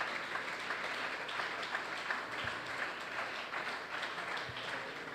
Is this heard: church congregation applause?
yes